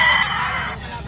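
A gamefowl stag crows once, loud and close, a single strained call that trails off within about a second.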